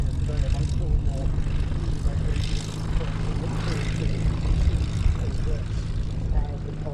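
Rolls-Royce Merlin aircraft engines rumble at an airshow as a steady, deep, continuous drone, with someone speaking over a loudspeaker on top.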